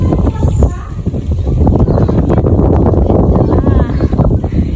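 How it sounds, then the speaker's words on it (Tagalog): Strong wind on a hilltop facing Mount Arayat buffets the microphone with heavy, gusty low roaring, loud and close throughout, while a person talks over it. "And mahangin dito sa taas, guys. Sobrang hangin."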